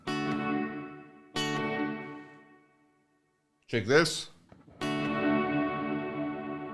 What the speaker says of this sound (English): I'm just playing with the decay of the reverb.